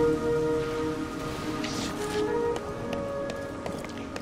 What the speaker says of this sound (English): Enjoy that lovely rain.